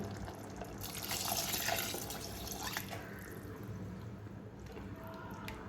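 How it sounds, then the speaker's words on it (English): Water splashes and pours into a pot of chicken gravy, with a brief louder rush followed by quieter trickling and drips, close and fairly soft. "I'm going to add around 600 ml of water."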